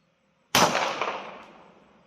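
A single handgun shot fired single-action at a target, one sharp loud crack after a short silence, followed by a decaying ring of echo that fades over about a second and a half.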